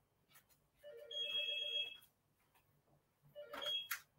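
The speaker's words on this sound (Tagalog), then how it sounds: "May tumatawag." Mobile phone ringing with an incoming call, two short bursts of a faint electronic melodic ringtone with a quiet gap between, in a fairly quiet room.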